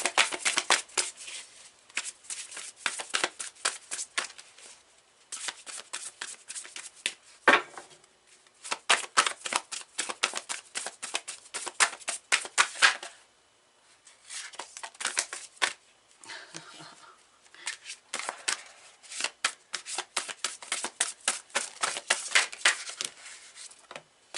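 A deck of tarot cards is shuffled over and over, each pass a quick papery riffling burst, close and clear, separated by short pauses.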